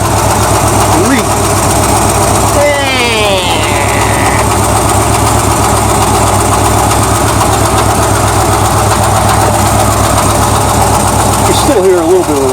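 A 1978 El Camino idles with a faint rattle from underneath, a steady engine drone throughout with brief scraping and movement noises near the start and end.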